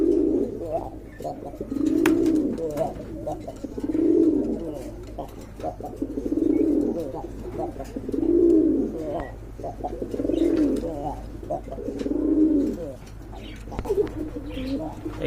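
Pigeons coo at a pigeon market in a slow, repeating rhythm of soft, throaty rolling calls, close and clear, with faint chirps and background clatter between the phrases.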